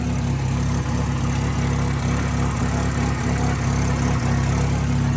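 A cheap project car's engine idles steadily nearby, a low continuous rumble with a faint rhythmic pulse and no talking.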